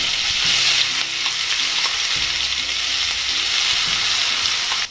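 Mustard seeds, cumin and a ground paste of green chili, ginger, coconut and garlic hit hot oil for a Marathi udid dish, producing a loud, continuous close-up sizzle with light stirring scrapes and no talking.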